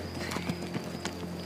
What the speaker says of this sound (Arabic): خد بالك من الحصان اللي هناك ده لحسن شكله شقي